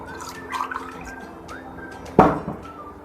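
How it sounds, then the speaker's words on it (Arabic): Water trickles gradually into a homemade pizza dough mixture in small pours, with faint drips and a sudden louder splash near the end, close and quiet, without speech. "هنحط بقى واحده واحده الميه بقى، واحده واحده، ما نكترش ميه"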